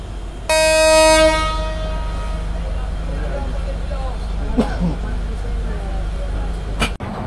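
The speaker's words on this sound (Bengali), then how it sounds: "আমাদের ট্রেন এখনই ছাড়বে" A Turna Express train horn blasts loudly for about a second as the train prepares to depart, followed by a steady low rumble of the idling train and faint clanks.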